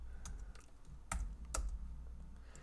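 Typing on a computer keyboard, quiet scattered keystrokes with a couple of sharper, heavier key presses standing out, close and alone with no talking.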